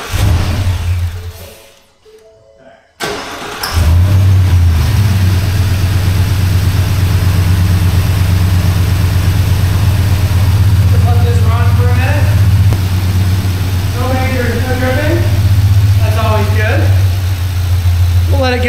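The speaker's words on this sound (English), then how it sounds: "Let it get to a low idle and then we'll check it." A car engine idles steadily at close range after being started during an oil change, a constant low rumble following a brief dip near the start; a person talks over it toward the end.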